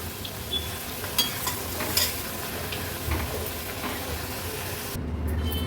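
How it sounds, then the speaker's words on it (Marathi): Thin potato wafers fry in hot oil, a continuous soft sizzle and bubbling with occasional stirring clinks, close and fairly quiet, with no talking. "चला मग उरलेले सर्व वेफर्स आपण असेच तळून घेऊया."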